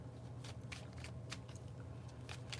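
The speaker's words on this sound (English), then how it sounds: "Once I'm done with the bridge shuffle" A deck of cards riffled in a bridge shuffle during a tarot reading, with several brisk, crisp bursts of flicking cards, close and moderately loud, over a low steady hum.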